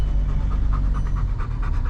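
Wolfdog panting at a pet fair, rapid rhythmic breaths close by, steady and continuous over a low rumbling background.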